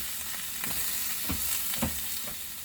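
Beef stir-fry with onion sizzles steadily in a cast iron skillet while a utensil scrapes and stirs in a few distinct pushes, the frying hiss constant and close.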